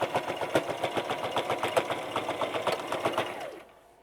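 Sewing machine stitching straight across a pencil pouch boxed corner, a close, rapid, even mechanical chatter that runs for several seconds before winding down and stopping.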